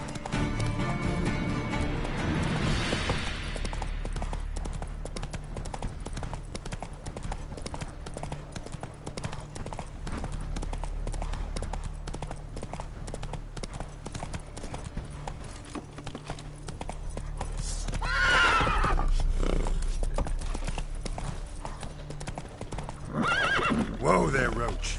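Roach the horse in The Witcher 3 clip-clops steadily at a gallop under game music, with neighs and whinnies rising near the middle and end, and voices speaking over the hoofbeats.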